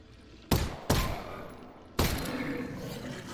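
Gunfire in the Half-Life: Alyx VR video game, three sharp, loud shots at uneven intervals, each followed by a long echoing decay, with no talk over them.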